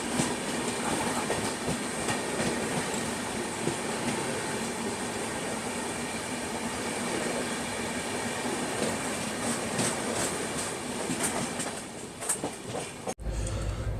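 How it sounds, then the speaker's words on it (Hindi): Heard from aboard, the Pune Duronto AC express pulls out of Mathura Junction with a steady loud rumble and rhythmic clickety-clack of wheels over rail joints, continuing for many seconds before a sudden drop. "हम लोग मथुरा जंक्शन से निकल रहे हैं"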